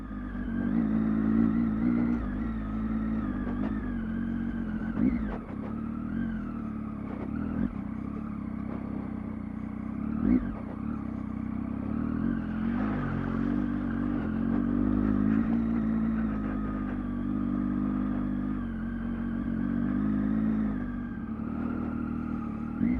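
A Triumph Tiger 800 motorcycle runs off road through mud, its engine droning steadily at moderate volume with a few clunks and small surges in revs, and no speech.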